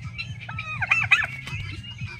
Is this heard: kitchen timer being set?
no